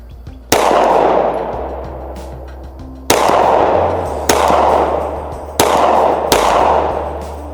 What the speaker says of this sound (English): That's 5 shots, right?